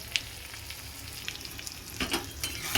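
A tangra fish curry with turmeric sizzles softly in a pan while it is stirred, with a few scraping strokes near the end, close and fairly quiet.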